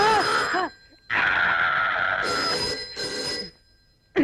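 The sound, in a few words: telephone ringing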